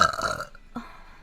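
A woman lets out a single loud, close burp lasting about half a second, followed by a brief faint trailing sound and quiet.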